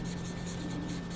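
Writing on a board in a classroom, a short continuous scratching of strokes close by, with a steady background hum and no talking.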